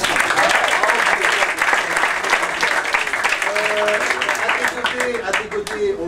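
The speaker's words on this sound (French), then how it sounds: "On peut leur applaudir pour cette performance" Sustained, dense audience applause at a live event with a few voices, loud and steady for six seconds, tapering slightly near the end.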